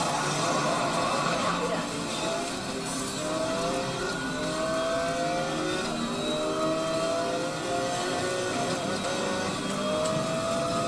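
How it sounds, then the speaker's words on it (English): A Lamborghini Aventador's V12 revs hard in Need for Speed Most Wanted, a loud continuous engine whine climbing and shifting through gears over a steady roar, with a person talking over it. "Listen to that V12 sing."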